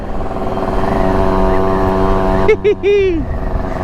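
Yamaha YG-1 Trailmaster motorcycle engine held flat out at about 45 mph in fourth gear, a loud steady buzzing drone with wind noise in the rain, while a rider's voice speaks over it near the end.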